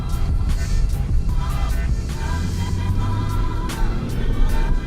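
A 2018 Jeep Grand Cherokee Summit drives along with a steady low engine and road rumble, a few brief higher whooshes passing over it, and faint talk at times.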